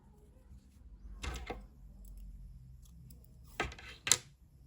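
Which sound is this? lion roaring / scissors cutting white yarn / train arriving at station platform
scissors cutting white yarn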